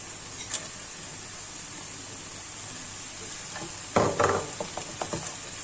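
Minced meat for a msemen filling frying in a pan, a faint steady sizzle that turns into louder clattering stirring and scraping toward the end, close and without talk.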